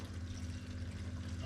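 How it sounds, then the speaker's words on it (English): Murky water empties out of an aquarium protein skimmer, a soft continuous pouring trickle over a low steady hum, close and quiet, with no voices. "we need to empty the protein skimmer"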